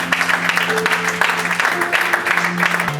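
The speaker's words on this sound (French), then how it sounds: "On acclame un peu pour Jésus" A church congregation at a Sunday service applauds and cheers for Jesus, a dense burst of clapping filling the room with voices mixed in.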